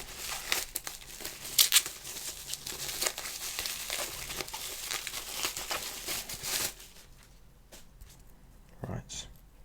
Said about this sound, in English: don't know if this is a good idea to be ripping it like this, something that's come from overseas